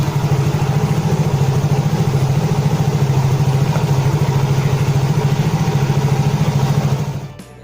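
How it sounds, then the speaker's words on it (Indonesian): A Yamaha Mio J motor scooter engine, which had been stalling suddenly, runs steadily at a close, loud idle with a fast rhythmic putter, then cuts off abruptly near the end. "Tadi udah sama-sama kita dengar motor langsung hidup ya teman-teman."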